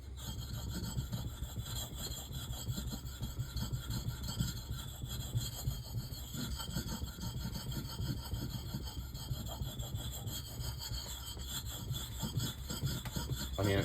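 An axe edge is worked steadily against a natural Belgian coticule stone under firm pressure, giving a continuous close-up gritty rasping and scraping with a faint back-and-forth rhythm and no talk.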